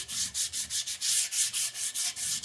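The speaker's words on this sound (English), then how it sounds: "Then I get a piece of hand sandpaper and I'll sand it." Steady back-and-forth strokes of hand sandpaper rubbing over wood, a rhythmic scratchy hiss repeating about four times a second, close up with no talking.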